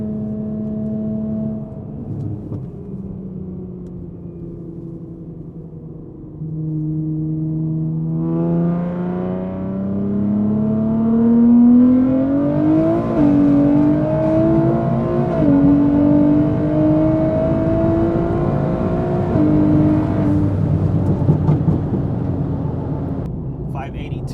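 A 700 wheel-horsepower 2023 Nissan Z accelerates hard, its engine tone climbing steadily through the gears with brief dips at each slow shift, loud and close from inside the car as someone talks over it.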